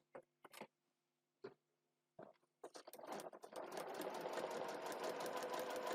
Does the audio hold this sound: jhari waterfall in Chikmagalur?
no